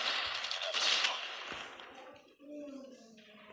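Gunfire in Call of Duty Mobile, a dense rattle of shots that blurs into noisy game sound and then fades into quieter ambience, with no talk.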